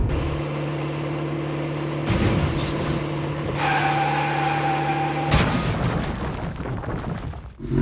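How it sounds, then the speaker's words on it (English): Inside a car cruising at 115 mph in heavy rain during a European road rally, a loud continuous engine and road drone holds, with a rising whine midway and a sharp shift in tone near the end. "at the moment we're doing 115 mile an hour, it's pissing down with rain, but the car sits nicely"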